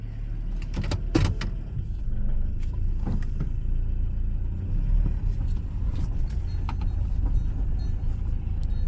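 A 1990 Toyota Hilux pickup truck drives along with a steady low engine and road rumble, near and fairly loud, with occasional small clicks and rattles from inside the cab; no one speaks.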